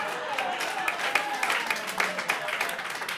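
An audience at a planning commission meeting breaks into scattered clapping, a fairly quiet patter of uneven claps going on for a few seconds.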